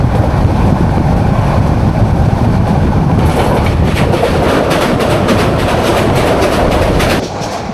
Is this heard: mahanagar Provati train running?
yes